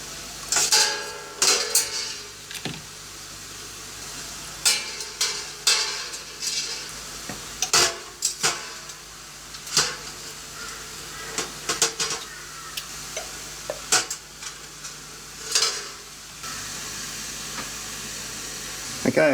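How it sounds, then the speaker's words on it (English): Steel vise parts sit in a pot of boiling water in a home workshop, with a low steady hiss and bubbling broken by scattered metallic clinks and knocks near the pot. "from there they go into a pot of boiling water"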